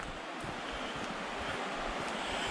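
A swollen river rushes steadily on a stepping-stones walk, a loud, unbroken broadband roar of water mixed with wind buffeting the microphone.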